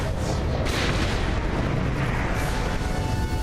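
Gunfire in Saints Row IV blends into a dense, loud, continuous roar of shots and booms. It fills every moment with no pause.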